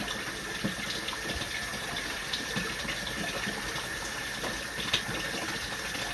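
Water gushes at full blast from a basement utility sink, a loud, steady rushing hiss that fills the space without a break.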